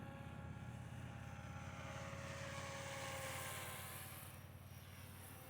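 An SAB Goblin 570 KSE radio-controlled helicopter flies outdoors, its rotor and motor giving a steady whining drone that swells slightly and then eases, at moderate distance with no talk.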